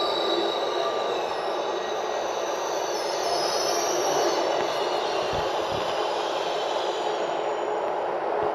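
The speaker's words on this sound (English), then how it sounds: "So my train already arrived." A Swiss intercity train bound for Lugano rumbles steadily nearby with continuous rail noise and a high metallic squeal riding over it, no voices.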